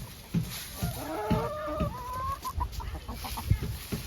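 Month-old chickens cluck and chirp in a backyard pen as they scratch through mulched leaves, a run of soft close calls with light rustling and scratching underneath.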